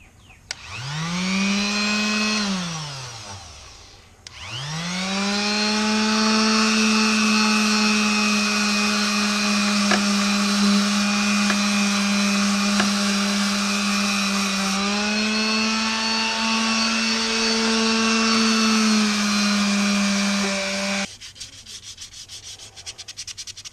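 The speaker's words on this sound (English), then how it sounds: "So I'm going to try to use this hand sander here to knock this out the way." Hand sander knocking flaking old bottom paint off a Volvo DP-C1 transom shield: a loud, steady motor whine that spins up, briefly stops and restarts, then runs continuously close by before cutting off.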